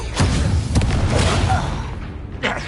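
Fiery Confringo blasting-spell explosions in Hogwarts Legacy, a loud booming burst that rumbles on and tails off, with a smaller pop near the end.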